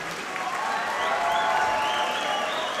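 A wrestling crowd in Newcastle applauds at a British wrestling show, a steady wash of clapping with some cheering, filling the hall continuously, with a voice faintly audible over it.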